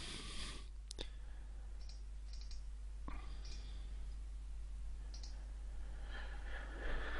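Mouse clicks on an installer's Finish button while setting up Postgres on a computer, a few sharp, close clicks spaced a couple of seconds apart over a steady low hum, no talking.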